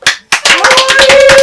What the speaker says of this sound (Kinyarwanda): natwe nk'uko bisanzwe tumwakiriza amashyi n'impundu